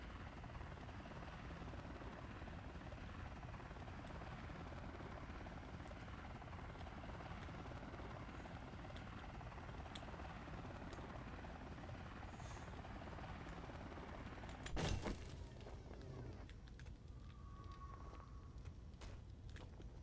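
A helicopter in the video game 7 Days to Die, played with the Undead Legacy 2 mod, drones steadily with its rotor and engine throughout, loud and continuous, with a brief sharp clunk near the end.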